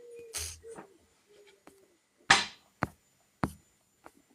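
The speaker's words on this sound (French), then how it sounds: "Je rigole parce que j'entends le merle et... Le coucou, oui, le coucou. C'est la tourterelle." Outdoor birdsong with a turtle dove's soft repeated cooing, and a blackbird and cuckoo calling, heard as scattered calls and several sharp notes spaced apart at moderate distance.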